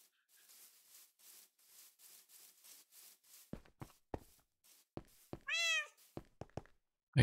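A Minecraft video game cat gives one clear, fairly loud meow amid a run of soft footsteps and hollow wooden thunks and clicks from the game.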